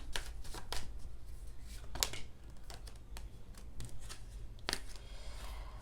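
Tarot cards are shuffled and handled up close, soft riffling and slapping bursts at an irregular rhythm, quiet and without talk.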